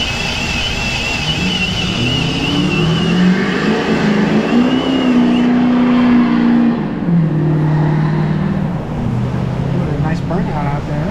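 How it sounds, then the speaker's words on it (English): A car doing a burnout, engine held at high revs with a rising and falling whine and a continuous roaring hiss of spinning tyres, loud and sustained throughout. "a nice burnout out there"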